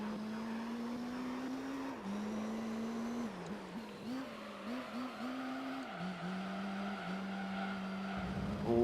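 Race car in the Gran Turismo 3 video game accelerating out of a corner with oversteer, engine droning steadily near and loud, pitch rising and dipping through gear changes over a faint tyre scrub.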